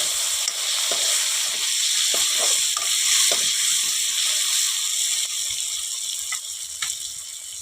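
Potato pieces with turmeric fry in oil in a pan, giving a steady loud sizzle and hiss with scattered scraping stirs up close.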